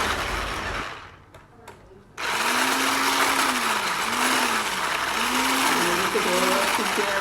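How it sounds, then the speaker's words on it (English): An electric mixer blends cheesecake filling thickened with cornstarch. It starts, pauses briefly, then runs as a loud continuous whirring drone whose pitch sweeps and wavers. "Mix it all together so it keeps up"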